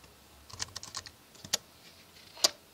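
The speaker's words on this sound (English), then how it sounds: "use the keyboard to enter a new name" Fingers tapping a tablet's on-screen touch keyboard to type a name, giving a run of light, close, irregular taps and clicks, with no talking.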